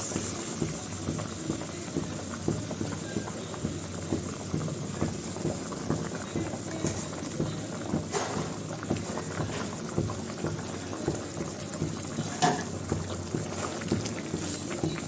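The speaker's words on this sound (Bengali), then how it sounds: "এই যে ঝোল ফুটে গেছে" Fish curry broth bubbles vigorously in a pot, a continuous close rolling boil with rhythmic gurgling pulses and occasional louder pops, with no one talking over it.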